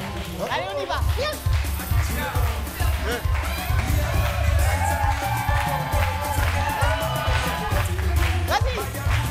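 An indoor crowd cheers and claps at a lively event, a continuous wash of applause, whoops and chatter with children shouting, while people talk over it nearby.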